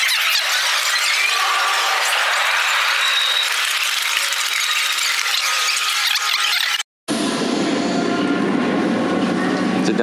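A Paris metro train runs with loud squealing wheels and rumbling carriage noise, continuous and close, broken by a brief cut before the rolling rumble resumes.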